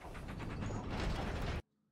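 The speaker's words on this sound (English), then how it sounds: "Stop! Stop! It's a lever." A lever mechanism pulled in Dark Souls 3 grinds and ratchets steadily for about a second and a half, then cuts off abruptly into near silence.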